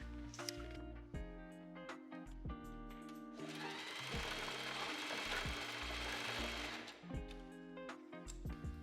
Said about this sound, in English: I'm gonna sew over here just to make sure it's not opening up again